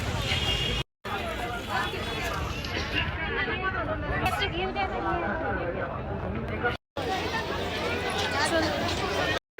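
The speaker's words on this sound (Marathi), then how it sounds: "मंदिरात तर फारच गर्दी असणार आहे." A dense crowd murmurs and chatters at a busy Datta temple on a Thursday, many overlapping voices close around with footsteps, the babble broken by two brief silent cuts.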